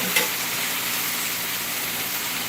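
Meatballs in green sauce bubbling and simmering in a pan, a steady close hiss of boiling liquid with faint popping throughout.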